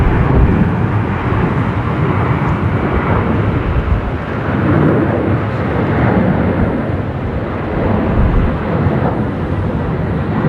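A Velocity Airlines airliner departs from Brisbane Airport with a loud, steady broadband engine roar that holds strong for the full stretch, slowly swelling and easing without a break.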